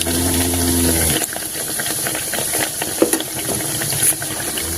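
Chirote pastries frying in hot oil: a continuous bright hissing sizzle, close and fairly loud, with small crackles and a brief clunk, no speech.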